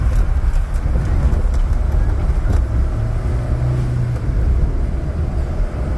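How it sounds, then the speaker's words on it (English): Road traffic rumbles through Puerto Vallarta as heard from a driving car, a dense low continuous roar of engines with occasional passing hums, while a person talks over it. "See the traffic? Look at it."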